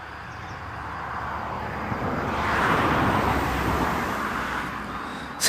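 A car drives past on a quiet residential street, a broad whoosh swelling to a peak midway and fading again, with no speech over it.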